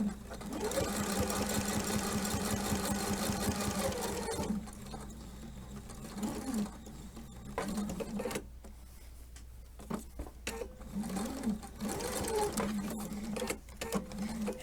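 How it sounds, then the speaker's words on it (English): A sewing machine stitches ribbon onto a hump jumper, running in a steady loud whir for about four seconds, then dropping to quieter intermittent stitching bursts with pauses and handling noise. "that let me sew that ribbon on really, really easily"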